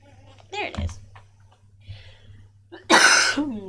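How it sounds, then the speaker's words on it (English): A couple of short, sharp coughs ring out close by, followed by a louder, harsher burst after a pause. "Can't get rid of that pesky cough."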